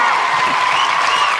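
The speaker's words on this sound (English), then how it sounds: "Let's get some claps going." A studio audience on a talk show breaks into a short burst of applause, dense and loud throughout, with voices mixed into the clapping.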